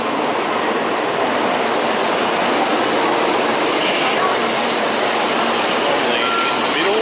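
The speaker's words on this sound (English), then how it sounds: "Here comes our train right now." Train pulling into a station in Kyoto, Japan: a steady, loud broadband rumble and rush of rail wagons rolling in, continuous throughout with faint metallic wheel noise and no break.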